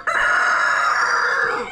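An agitated backyard hen gives one long, loud, crow-like squawk right beside the listener, with no talk over it.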